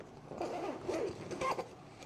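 Zipper on a compact K&F Concept camera sling bag's main compartment being pulled open, a close, raspy ripping sound running steadily for about two seconds with slight rises and falls.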